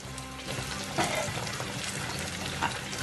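Ackee and saltfish sizzle in a frying pan while being stirred together, a steady close crackle with a few brief scraping stirs.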